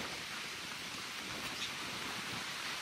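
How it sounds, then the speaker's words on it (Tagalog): Rain falls steadily outdoors on a beach lot, heard as an even, dense hiss with no break. "Ayan, nag-uulan. Inabot po kami ulan."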